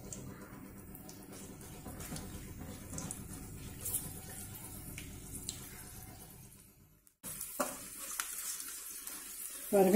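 Dried cluster bean vathal frying in hot oil, a soft steady sizzle and bubbling heard close up and fairly faint, briefly dropping out before resuming with brighter crackling.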